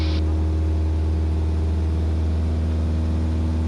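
A 2022 Cessna 172S Skyhawk engine drones steadily in flight at about 2,200 RPM, a loud, constant cabin hum with strong low tones and a brief high chirp at the very start.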